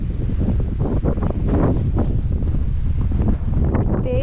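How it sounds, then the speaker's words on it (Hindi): Strong wind on a hilltop overlooking a lake buffets the microphone in continuous loud roaring gusts. No voices can be heard. "तेज हवा है"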